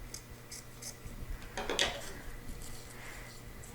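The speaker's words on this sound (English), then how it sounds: "I don't have the sharpest scissors, unfortunately, but so I'm going to go ahead, make that cut up" Dull scissors cut through ribbon while a bow is being made, giving one quick, quiet snipping rustle midway through an otherwise hushed room.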